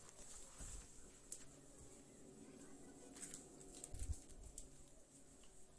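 Domestic birds coo softly at a distance while being fed, with faint rustling and pecking in a quiet setting.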